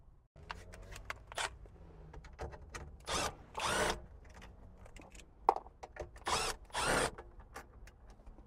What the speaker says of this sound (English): Next, we're going to take the two screws out of here and pull the radio out.